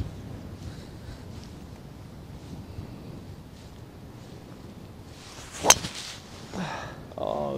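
A golf driver strikes the ball off a tee at the Bro Hof Stadium Course: one sharp, loud crack about two-thirds of the way in, against steady outdoor wind noise, followed by faint rustling.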